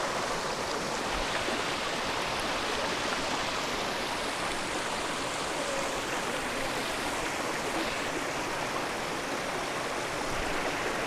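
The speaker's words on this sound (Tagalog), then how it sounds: "Kita mo yung river doon." A clear river on a farm rushes steadily, a close, even wash of flowing water that continues without pause or talk.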